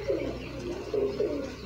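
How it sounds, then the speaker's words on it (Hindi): Soft, low cooing of a Sialkoti pigeon with red pearl markings in a few rolling phrases, close by and fairly quiet, with a faint steady background hum. "ये कबूतर है सियालकोटी मोतियां वाला, लाल मोतियां वाला कबूतर जी"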